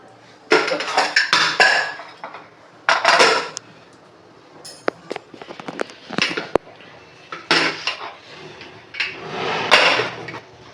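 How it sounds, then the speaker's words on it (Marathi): Pressure cooker lid being closed on a pot of vegetable masala pulav, with close, loud metallic clanks, scrapes and rattles coming in irregular bursts and no voices. "आता आपण झाकण बंद करूया."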